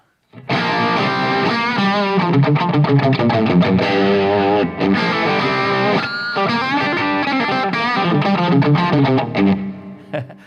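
An electric guitar plays through a mini amp head with the master volume cranked to 8, giving a loud, saturated, driven tone of dense chords and riffs that runs nonstop for about ten seconds.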